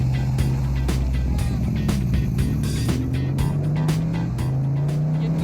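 A beautifully finished classic V8 car with side pipes idles and burbles close by, a steady low rumble with occasional sharper pops and small revs throughout.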